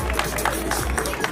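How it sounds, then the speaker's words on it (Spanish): Crowd applause for a marathon medalist at a patriotic marathon awards ceremony, steady clapping and cheering running through the whole short stretch with crowd noise underneath. "Aplausos, felicitaciones para Sheila."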